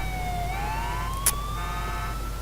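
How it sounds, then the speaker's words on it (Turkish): An ambulance siren in the video game GTA IV wails steadily with rising and falling tones over constant engine and traffic rumble, with a brief sharp click midway. "Aha ambulans."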